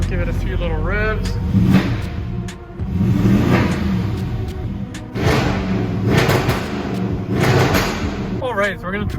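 An Audi S6 with a muffler delete revs up in several bursts, rising and falling over a steady idle, with a voice speaking briefly at the start and end.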